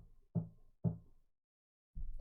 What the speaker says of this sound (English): I hear a knock at the door